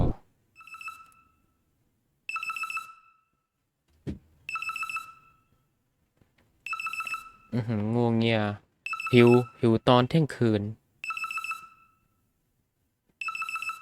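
A telephone rings in the video game The Midnight Food Run, a repeated electronic trilling ring in short bursts separated by silences, with someone speaking briefly between the rings.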